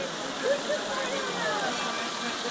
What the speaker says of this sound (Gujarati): અહીંયા છે 108 ગૌમુખી જેમાંથી પાણી પડતું રહે છે